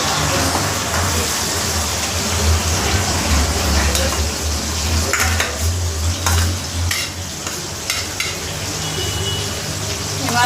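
Pieces of bitter gourd fry in hot oil with a steady, loud sizzle and crackle while a utensil stirs and scrapes the pan now and then.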